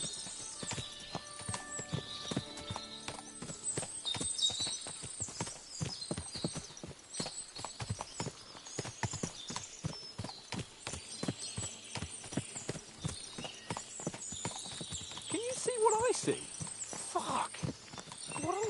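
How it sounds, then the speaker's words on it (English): Several horses clip-clop on foot with occasional neighing and whinnies in the medieval game Kingdom Come Deliverance 2, a steady busy patter of hooves at moderate distance, heard alone without talk. "What a lot of horses!"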